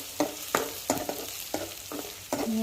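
Chillies and curry leaves sauté in a hot pan with sizzling oil, a spoon scraping in regular strokes about every half second, close and moderately loud.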